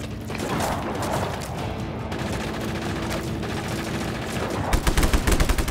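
Sustained automatic gunfire in Just Cause 3 rattles on steadily throughout, with louder, punchier bursts at the end.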